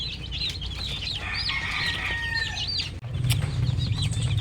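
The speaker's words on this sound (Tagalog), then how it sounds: "Ito na yung mga sisiw natin." Newly hatched chicks cheep in a dense, continuous chorus alongside adult chickens clucking, with occasional wing flapping, all close and fairly loud throughout with no talking.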